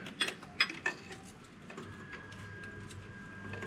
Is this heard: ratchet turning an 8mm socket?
yes